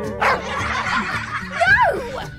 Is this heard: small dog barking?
yes